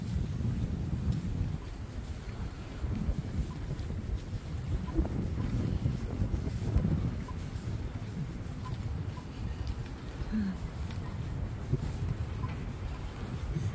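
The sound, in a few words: strong wind blowing against the microphone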